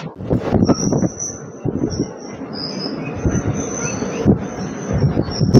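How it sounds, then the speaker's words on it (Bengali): Agartala–Sabroom DEMU train running, with steady loud rumble of wheels on rail and a sustained high metallic squeal running throughout. "আগরতলা সাবরুমের এই ডেমো ট্রেন চলছে"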